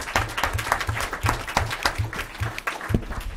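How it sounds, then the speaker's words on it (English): Audience at a Murray City council meeting applauds, a few seconds of brisk, fairly close clapping with quick individual claps standing out in an even burst. "One more round of applause."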